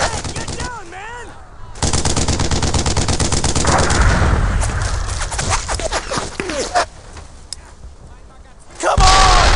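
Sustained automatic gunfire in a World War II shooter, dense rapid bursts layered with shouted commands and radio-style voices, with short quieter gaps before the shooting resumes loudly.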